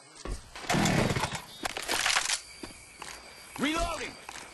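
Chainsaw in the zombie shooter Left 4 Dead 2, a buzzing motor revving in bursts and dropping back, mixed with footsteps, game effects and character voices talking over it.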